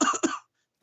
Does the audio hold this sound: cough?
yes